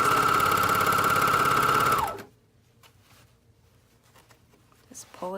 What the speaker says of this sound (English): Match up the side seams. And continue to sew around.